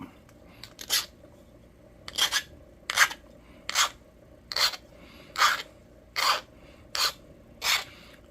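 A flint point being sharpened by abrading during flintknapping, heard as about ten short, close, gritty scraping strokes in a steady rhythm with brief pauses between, no talk.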